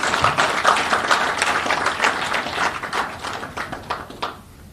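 An audience at a foundation day ceremony attended by a state governor gives a round of applause, dense clapping at first that gradually thins into scattered claps and fades out.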